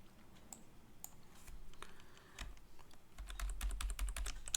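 A computer keyboard running Linux Lite 3.0 gives a quiet run of scattered key clicks and presses, sparse at first and then a quicker burst of taps near the end, close by with no talk.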